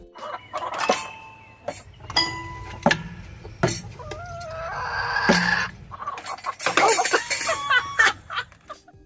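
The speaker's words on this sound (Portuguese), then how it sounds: "Este frango musical tem até mesmo sua banda de aves." A musical chicken clucks and crows in loud, close bursts, with several short squawks and longer wavering calls spaced irregularly across the stretch.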